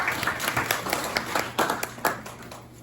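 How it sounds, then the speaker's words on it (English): Audience clapping after a laughter session, a scattered burst of hand claps in a room, moderately close and fairly light, with a steady low hum beneath. "another round of applause for good laughter"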